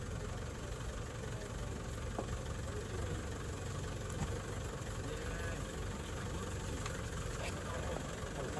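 An off-road vehicle's engine running on a rough, dangerous track, a steady low rumbling drone with faint knocks and rattles, heard at moderate distance with no talk.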